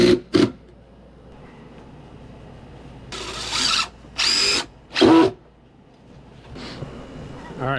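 A power drill drives fasteners into deck stair stringers in several short, loud whirring bursts with pauses between them, a couple of quick ones at the start and three longer ones a second apart.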